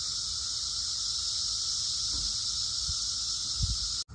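Cicadas swarming outdoors in summer produce a loud, continuous high-pitched drone that stays steady and nearly alone throughout, with a few faint low thumps underneath.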